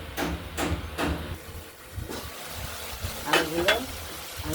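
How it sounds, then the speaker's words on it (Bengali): Tomato and spice masala for a rohu fish curry with potatoes is stirred in oil, giving soft sizzling broken by repeated scraping strokes of a spatula against the pan, close up. "টমেটো মশলা কষানো হয়েছে যে তেল ছেড়েছে"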